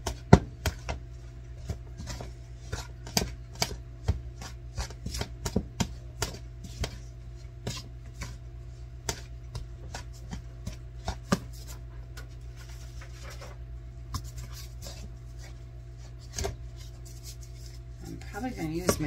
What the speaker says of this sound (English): we're going to mix that until it's crumbly